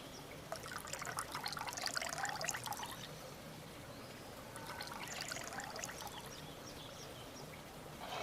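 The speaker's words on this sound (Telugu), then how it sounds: "ఇక నీళ్ళు పోద్దాం అత్తమ్మ" Water is poured into a cooking pot for a village-style mutton boti biryani, making a soft, continuous splashing trickle that swells and fades twice and stays fairly faint and alone.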